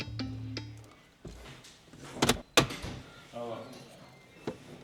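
A 2025 Volkswagen ID. Buzz glove box latch clicks and snaps open, then shuts with a couple of sharp knocks, with quiet speech and faint hum around it.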